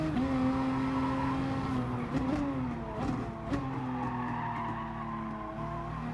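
Gran Turismo race car sliding at Suzuka: a sustained engine note bends and wavers as tires squeal and skid, with a few clicks, before the engine steadies again, loud and close with no talking.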